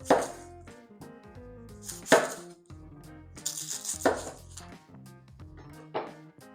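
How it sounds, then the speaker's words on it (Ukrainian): A knife strikes a cutting board in a few separate, spaced chops while halving onions, each ringing briefly against a faint tonal background. "Просто навпіл її ріжемо, знімаємо шкіру."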